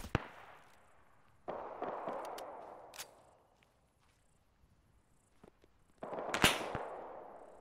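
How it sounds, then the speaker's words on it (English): Incoming gunfire in Arma 3 sounds as several sharp, distant cracks spread across the clip, each followed by a rolling echo that fades out, with quiet gaps between the shots. "We're taking fire from somewhere."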